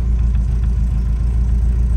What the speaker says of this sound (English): with the choke out, obviously the idle drops.